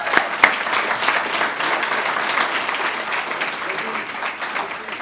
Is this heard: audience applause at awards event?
yes